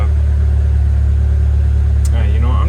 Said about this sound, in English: I'm gonna let this thing idle for a minute.